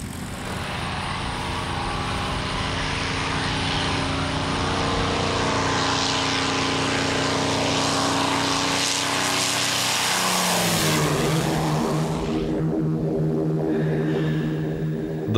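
Several P-51 Mustang fighter planes with propeller engines drone loudly and steadily, the roar swelling and shifting in pitch as the aircraft run up and move, with no voices over it.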